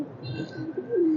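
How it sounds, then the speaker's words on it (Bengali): A green-necked pigeon of an old breed gives a short, close coo that swells toward the end, alone without talk. "সবুজ গলা কবুতর"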